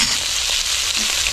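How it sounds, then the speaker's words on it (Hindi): Chopped potatoes sizzle and crackle loudly in a hot garlic-ginger tempering, a continuous close frying hiss with faint stirring scrapes. "अब इसमें हम कटे हुए आलू को डाल देते हैं।"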